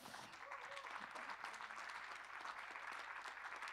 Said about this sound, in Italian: a cui chiedo di fare un ultimo applauso.